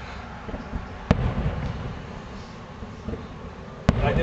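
Fireworks burst at a Quality Foods display in Powell River, British Columbia, with two sharp loud bangs a few seconds apart over a rumbling, crackling background of more distant explosions.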